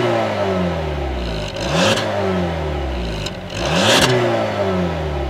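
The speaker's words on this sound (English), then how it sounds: "And as always, here's that exhaust clip." A 2016 Volkswagen CC R-Line with chrome-tipped exhaust outlets revs twice, each blip rising sharply and falling back to a steady idle, heard close at the tailpipe with no talking.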